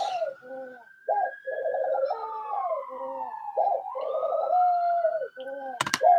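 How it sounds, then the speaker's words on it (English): A bird gives repeated harsh, rhythmic calls and squawks while a siren wails steadily in the background, rising and falling, with a sharp burst near the end. "my bird is just like a dog. If he hears sirens, he goes off"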